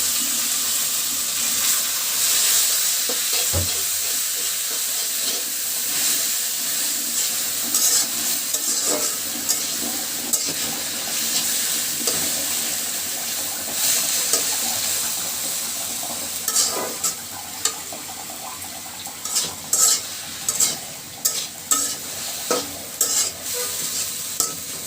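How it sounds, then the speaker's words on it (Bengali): Boiled kalmi greens are stirred into frying onion and chili in a village kitchen, with a continuous close sizzle and hiss. Busy spoon scrapes and stirring clatter run throughout, growing choppier toward the end. "এখন দিয়ে দিচ্ছি আমার সিদ্ধ করে রাখা শাকগুলো"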